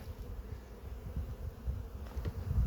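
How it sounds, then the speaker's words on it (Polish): Honeybees buzz steadily around a hive in an apiary on a warm late-February spring day after their first cleansing flight, a soft continuous hum with no talk. "Pszczoły się obleciały."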